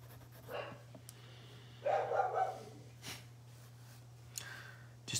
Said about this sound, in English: Ignore the barking dog in the background.